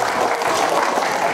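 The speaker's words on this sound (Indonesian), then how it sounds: "Oh, tepuk tangan dulu." A seated audience gives a short burst of polite applause at an Indonesian education office event, producing a steady wash of clapping with no voices over it.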